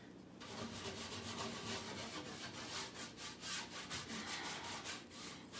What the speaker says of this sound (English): I'm just gonna blend it by with that kind of scrubbing and brushing back and forth.